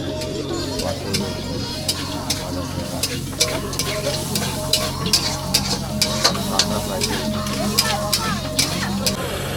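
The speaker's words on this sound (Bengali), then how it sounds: "100 টাকা লোটে মাছ ভেজে দিচ্ছে" Bombay duck (lote fish) frying in oil at a Bakkhali beach stall makes a continuous close sizzle with regular ticking clicks, while people talk over it.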